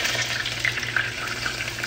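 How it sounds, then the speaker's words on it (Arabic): Water poured into a pot of hot oil with cinnamon, cloves, bay leaves, dried lime and a chili for chicken biryani sizzles and hisses steadily at close range, with bright crackling bursts over a low bubbling hum. "حضيف المية"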